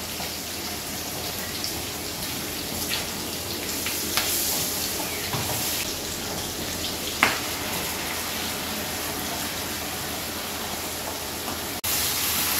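Ground spices with salt, turmeric and chilli powder frying in a pan for paneer fried rice, a quiet, continuous sizzle with scattered scraping stirs and a few sharp clicks, close by, without speech.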